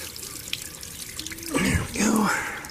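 A tap runs water during the rehab of a 1991 Crestliner ProAm boat, with a steady splashing flow that swells in two bursts near the end while someone speaks briefly.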